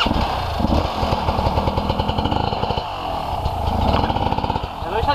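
An enduro motorcycle engine pulses in rapid rough firing bursts on an off-road trail, rising and falling in a couple of throttle swells, with speech heard alongside it.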